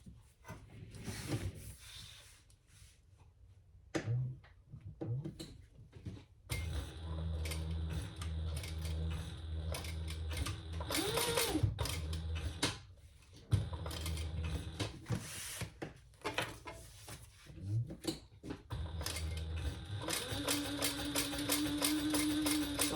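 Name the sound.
sewing machine stitching a crossbody bag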